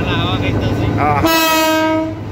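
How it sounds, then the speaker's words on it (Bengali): A locomotive horn blares loud and close from inside a train engine cab, a sustained harmonic blast cutting in over the steady rumble of the moving engine on a run toward Chandpur. "এই যে এখন দারুণ একটা বাঁশি বাজলো"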